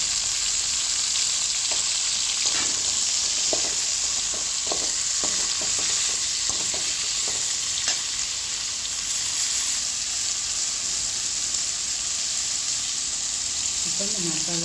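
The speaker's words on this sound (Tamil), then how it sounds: "இப்போ 3 தக்காளியை போட்டு வதக்கிடுவோம்" Three tomatoes sautéing with browned onions in a pan for a white cowpea curry: a constant close sizzle with a string of light spatula taps and scrapes in the first half, then frying alone, with no talking.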